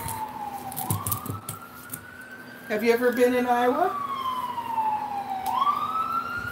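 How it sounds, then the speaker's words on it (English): A police siren wails past, its pitch sweeping up and down and briefly switching to a rapid yelp, with a person talking over it. "Can you hear the ambulance coming down?"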